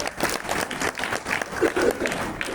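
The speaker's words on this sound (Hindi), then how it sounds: "भैया अगली एक बार ताली बजाइए।" Workshop participants clapping on request during a classroom air-pressure demonstration, a short burst of scattered, uneven hand claps from a small group, fairly close, with voices mixed in.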